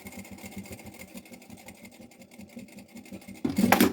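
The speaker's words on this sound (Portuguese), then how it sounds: "eu vou costurar só até ali ao primeiro bolso" A sewing machine stitches a fabric passport holder in quick, even mechanical pulses at close range, then a louder rustling burst of handling noise at the very end.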